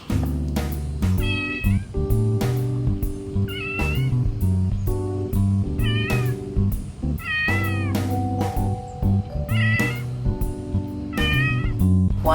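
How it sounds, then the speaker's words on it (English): A small cat looking for attention outdoors in Palawan meows repeatedly in short rising cries every couple of seconds, heard over steady rhythmic music with a strong beat, no talking. "along came this little kitty. He's just looking for some attention"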